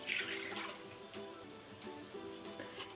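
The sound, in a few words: pouring a cup of water into mash lentils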